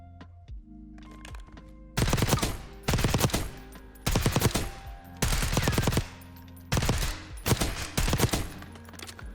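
Automatic rifle fire in Black Ops 6 from a low-recoil gun with a 50-round magazine, Commando grip, combat stock and recoil springs: five loud, sustained bursts of rapid shots, separated by short quieter gaps.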